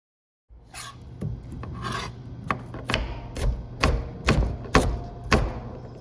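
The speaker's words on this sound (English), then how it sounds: "I'm gonna start by peeling my little potatoes" A peeler rasps over small potatoes in repeated close scraping strokes, steady rhythmic rubs with soft thuds, heard alone in a quiet kitchen.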